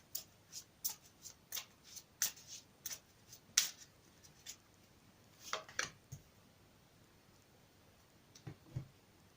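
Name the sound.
shuffling cards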